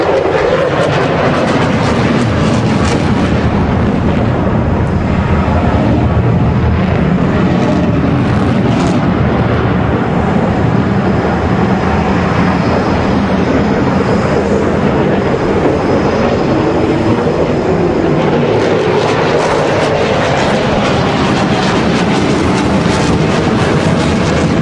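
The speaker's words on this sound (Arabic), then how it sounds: "ومرور سريع الآن لهذه الطائرة." An F-16 Block 60 fighter jet makes a fast pass at the 2011 Dubai Airshow, a loud, continuous jet roar that swells and fades across the sky, nearly drowning out faint commentary.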